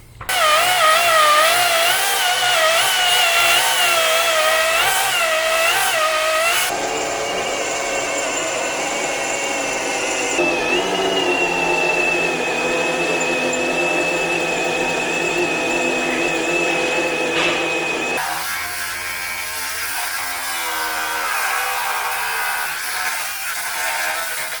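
Power drill boring into the steel frame rail of a 2018 Infiniti QX60, loud and close, a sustained whine that shifts pitch several times as the bit bites and the motor speed changes, with no voices.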